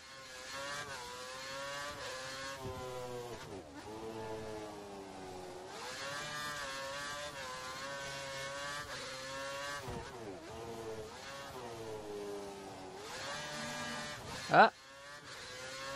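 Formula 1 race car engine in the F1 2013 video game on a wet track, a steady high-pitched whine rising and falling with throttle and gear changes throughout, with a player talking over it and a brief sharp burst near the end.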